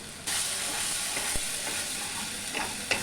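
Spice paste fries in oil for a fish roe fritter curry, a dense steady sizzle starting abruptly, with a few stirring knocks scattered through.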